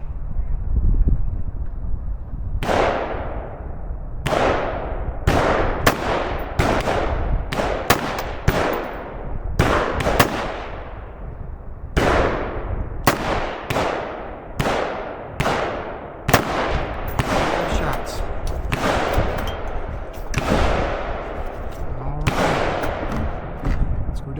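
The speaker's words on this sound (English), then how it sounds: "Mini 14. 5 shots." Mini 14 rifle firing outdoors in windy conditions, sharp, loud cracks with ringing decays, many more than five in an irregular rapid series, over steady wind rumble.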